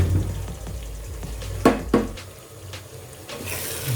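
A spoon stirs garden egg stew in a pot, giving a couple of clear knocks against the pot amid soft, wet, bubbling movement.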